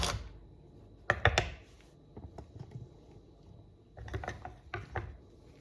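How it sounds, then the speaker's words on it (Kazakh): Two short bursts of a hand-cranked chopper, a ratcheting mechanical whir with quick clicks, first loud and close, then repeated a few seconds later. "Осындай менде ручной блендер"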